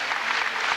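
Audience applause at a 1998 gymnastics tournament in Corbeil, a steady dense wash of clapping filling the whole brief moment, continuous and moderately loud with no voices standing out.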